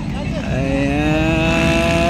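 Motorcycles race in the Pro Lites final, their engines revving loud and continuously with rising whine harmonics, under excited commentary.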